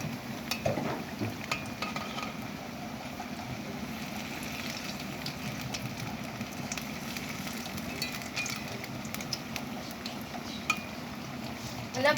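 Food frying and being stirred and turned in a pan, a constant soft sizzle with scattered scraping and clinking of a utensil, fairly quiet throughout.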